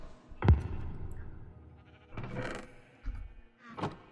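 Sheep bleat in Minecraft, a few short nasal bleats spaced a second or so apart, fairly close and clear against a quiet background.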